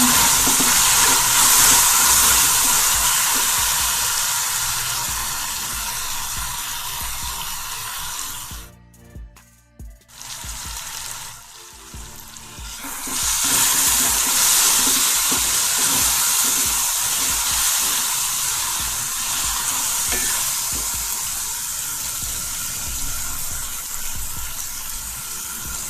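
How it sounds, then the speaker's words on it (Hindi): Chicken pieces sizzle hard in a pan with red chilli powder and turmeric while being cooked for pulao, a loud dense hiss that drops briefly near the middle and then returns full. "चिकन को अच्छे से भून लेते हैं"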